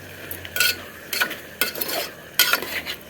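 Brinjal pieces with salt are stir-fried in a pan, with a spatula scraping in several distinct bursts over a faint sizzle, close and moderately loud, with no talking.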